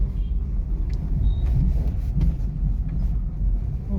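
A 2017 fourth-generation Honda City i-VTEC VX petrol sedan rolls over a speed breaker, heard from inside as a steady low road rumble with a few soft suspension thumps midway and no rattling, with no one speaking.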